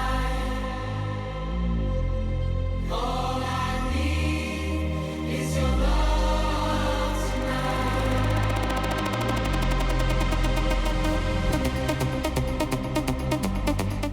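Build-up section of a dance track, with vocals absent: steady driving electronic beat and bass, a brief dip in the low end, then rising synth layers and a rapid stuttering pulse building in intensity.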